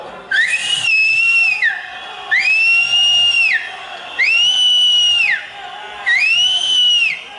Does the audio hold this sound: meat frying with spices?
no